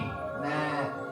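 A voice imitates a reindeer call during a comedy show at a holiday party, a sustained, wavering vocal sound with a rising swell in the middle, held for about a second in a busy room.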